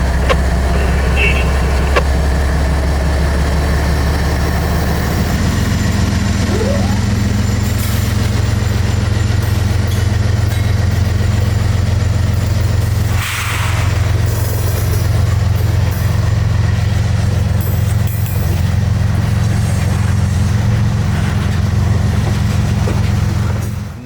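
Freight locomotive 3885 rumbles steadily at close range while shoving a string of empty cars, a loud, sustained low diesel drone that holds throughout with slight swells and a brief dip midway.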